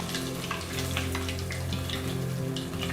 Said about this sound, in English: And now gently drop it into the oil.